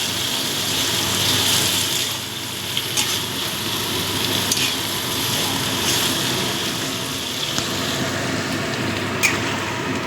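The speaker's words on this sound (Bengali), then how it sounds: "অল্প গরম জল একদম অল্প করেই দিচ্ছি" A little hot water goes into a frying pan of vegetarian banana-flower and coconut curry, setting off a steady, close hissing sizzle that holds for the whole stretch with small crackles and no talking.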